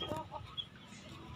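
Chickens cluck on a small farm, a few soft, distant clucks and murmurs over quiet outdoor background for just over a second.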